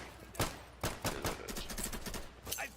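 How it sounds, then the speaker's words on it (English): Bursts of MP40 submachine gun fire in the video game Insurgency, several separate volleys spread over a few seconds with short gaps between them, fairly close and sharp, no talking. "Granted, the MP40 does not have the most fantastic fire rate."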